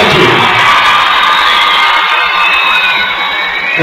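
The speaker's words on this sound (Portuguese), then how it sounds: "quero pedir mais uma vez uma salva de palmas aos alunos destaque deste ano do PROERD." Audience cheering and shouting at a school graduation for a police drug-prevention program, loud, continuous crowd noise with children's voices yelling and whooping, close and sustained throughout.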